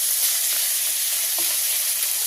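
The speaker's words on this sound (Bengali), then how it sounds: "তো এই মাছটা আমার ভাজি হয়ে গেছে, আমি এখন নামাই নিচ্ছি।" Fish heads frying in oil in a pan over a village kitchen fire, a steady broadband sizzle throughout with a brief stir or clink near the middle, no voices.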